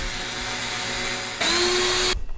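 A power tool spins a ball joint treated with Brasso polish, giving a steady close whine that rises in pitch and loudness partway through before cutting off abruptly.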